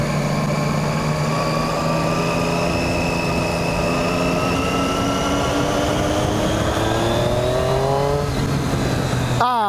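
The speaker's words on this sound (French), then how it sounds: "Ah alors quand on accélère, on entend bien la ligne hein" A Triumph Street Triple 675 motorcycle accelerating through the gears on a ride, its exhaust rising steadily in pitch, loud and close over wind noise, with a gear change near the end.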